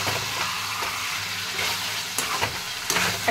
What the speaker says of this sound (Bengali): আপনাকে আদা রসুনটা ভাজতে হবে